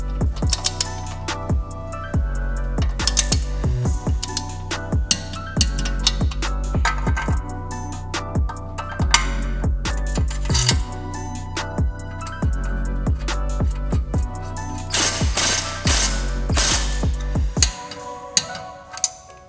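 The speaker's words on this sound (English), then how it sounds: "we'll go ahead and tighten this down with a torque wrench" A torque wrench tightening a front suspension control arm bolt on a 2002 Subaru WRX makes sharp, close ratcheting clicks in a steady repeated rhythm, then stops near the end.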